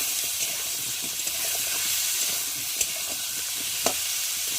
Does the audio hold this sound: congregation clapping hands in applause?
no